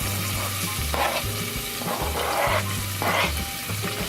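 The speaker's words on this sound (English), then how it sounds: "Sizzle, sizzle, sizzle." Vegetables sizzle steadily in a thin layer of hot oil in a pan, with a rhythmic scrape and rustle each time they are stirred and pushed around, up close and with no voices.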